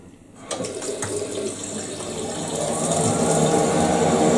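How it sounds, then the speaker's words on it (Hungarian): Hot water tap opened on a Baxi Main 24 Fi gas combi boiler setup: water bursts into a steady rushing flow that builds and grows louder, close and continuous with no talking. "most megnyitom a meleg vizet"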